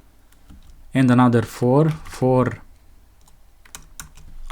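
Python code being typed on a computer keyboard: soft, scattered key clicks near the mic before and after a short spoken phrase.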